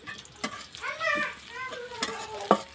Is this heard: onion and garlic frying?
yes